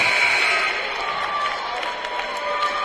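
Scots fans rise and cheer after a blocked shot at a college basketball game between Morris and Macalester, a loud, dense wash of crowd noise and clapping that holds steady throughout.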